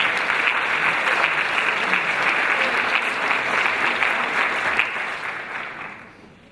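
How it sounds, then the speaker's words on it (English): A crowd at a high school community event applauds steadily with dense clapping, holding strong for several seconds before fading out at the end. "Let's give these groups a round of applause for their support of this event."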